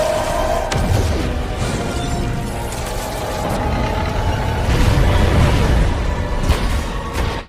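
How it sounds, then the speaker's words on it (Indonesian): A big explosion from the Black Adam film, rendered as a dense, loud sustained blast of crashing and rumbling debris with whooshing swells, lasting several seconds with no voices over it. "Kemarahan Adam menimbulkan ledakan besar."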